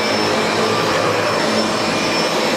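A SEBO Felix upright vacuum cleaner runs steadily, its loud continuous motor roar and whine filling the whole stretch with no pauses.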